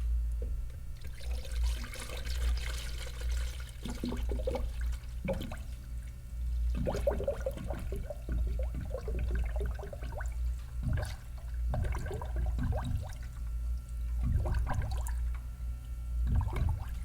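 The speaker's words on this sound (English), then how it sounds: "I'm gonna go ahead and start throwing coolant in this thing" Coolant glugs and splashes as it is poured into the radiator of an OBS Ford 7.5 truck, an uneven gurgling flow with intermittent sloshing bursts that runs for a long stretch without talk.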